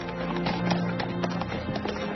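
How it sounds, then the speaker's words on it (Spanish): A horse gallops through a French military camp, its hoofbeats a dense, steady clatter that runs the full length at close range, with no voices over it. "Monta su caballo y comienza a galopar por el campamento francés."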